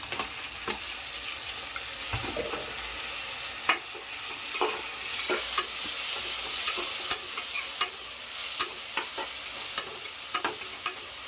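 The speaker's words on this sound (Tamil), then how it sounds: "இப்போ நம்ம தக்காளி ஆட் பண்ணோம்." Chopped tomatoes with rock salt sizzling in a pan for mutton biryani, a steady frying hiss punctuated by frequent scraping clicks of a spoon stirring, with no talking.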